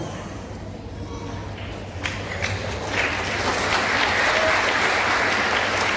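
A church congregation at a Pentecost thanksgiving service breaks into applause, the clapping building from scattered hands into a full, dense ovation that swells over a few seconds.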